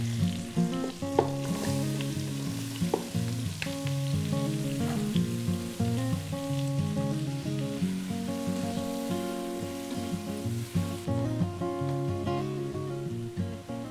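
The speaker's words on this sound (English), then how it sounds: "Let me get these mixed up and added in so they start to saute" Vegetables sautéing in a pan on a stove at medium heat: a continuous close sizzle with occasional stirring clicks and scrapes throughout, no talk.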